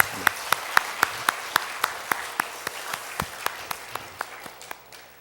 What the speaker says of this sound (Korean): 우리 하나님 앞에 영광의 박수 한번 돌렸으면 좋겠습니다